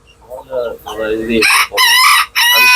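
A rooster crows loudly and close in a crowded poultry farm, one long strained call following a few clucks from the hens around it.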